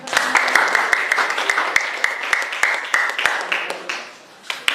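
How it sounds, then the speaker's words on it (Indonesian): Applause from a classroom audience of teachers after a group presentation, with sharp individual claps rising and falling over about five seconds and fading near the end, a few voices mixed in. "Ya, tepuk tangan."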